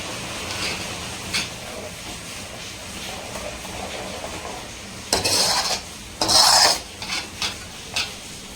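A spoon stirs paneer gravy masala, reddened with Kashmiri chilli, in a pan: low continuous scraping, then two louder bursts of clattering metal-on-pan mixing near the end, with no voices.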